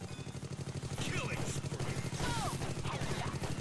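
Gunfire in a video game sniper match, with rapid dense shots like a fusillade running steadily under clashing game sounds and some voices, loud and busy throughout.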